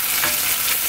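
Beef broth for Korean rice cake soup simmering and reducing in a pot, a steady loud bubbling hiss over a brief moment.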